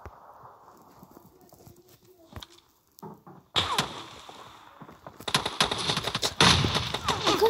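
Video game gunfire erupts in loud, rapid bursts after a quieter stretch of clattering and hoofbeat-like sounds, with a voice talking over parts of it.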